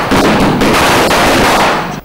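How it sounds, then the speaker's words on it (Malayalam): Diwali firecrackers burst during Deepavali celebrations in Kerala, a loud, dense crackle of rapid overlapping pops and bangs that goes on without pause, with no voices. "ശബ്ദഘോഷങ്ങളോടെ പൊട്ടുന്ന പടക്കങ്ങളുമാണ്"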